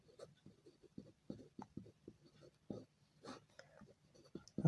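Pen writing out a Class 10 maths solution on paper, a run of short scratchy strokes in uneven rhythm, close and fairly quiet, with no talking.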